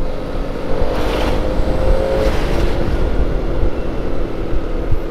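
A truck speeds past on a road near Purwakarta, heard from a moving motorbike, with a loud rushing engine roar that swells and fades against steady riding noise.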